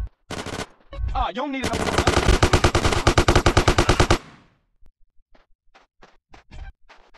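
Video game gunfire in GTA San Andreas: a loud sustained burst of rapid automatic fire, then a pause and scattered single shots further off, with a voice shouting briefly at the start.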